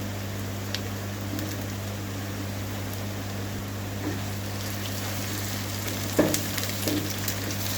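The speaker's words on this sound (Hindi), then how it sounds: "अच्छे से जो प्याज है वो फ्राई हो गए हैं" Browned onions and tomatoes fry in a pan for masala okra, giving a soft, steady sizzle with a few faint stirring clicks, quiet and continuous.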